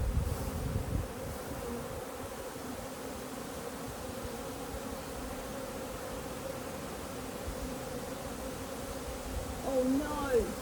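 Dense, steady buzzing of many honeybees crowded on a hive frame during a queen check, a continuous droning hum close by throughout.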